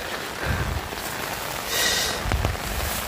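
Rain falls steadily on a surface outdoors while planting, a continuous hiss with scattered heavier drops and a brief louder burst near the middle.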